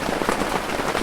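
Steady rain falls outdoors, a dense, even patter hitting surfaces with no pauses and no voices over it.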